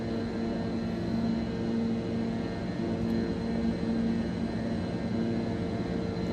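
Steady cockpit drone of an MD80 airliner in flight in Microsoft Flight Simulator 2024, a continuous broadband engine and airflow rumble with a faint tonal hum, even and unbroken throughout.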